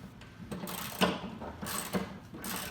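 Ratcheting clicks while snugging bolts on a PRx profile rack being mounted to a wall, a quiet series of short metallic ticks and turns in an irregular rhythm, close by with soft room noise.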